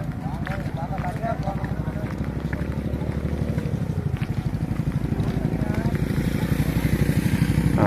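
Motorcycle engine running steadily with a low, even chugging pulse as a monk rides on a morning alms round, close and continuous, with someone talking over it the whole time.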